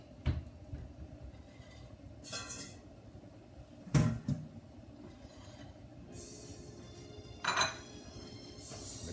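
Dishes and cutlery clink a few times, sharp and sparse, as a dish of mussels in white wine is fetched, with quiet background between the clinks.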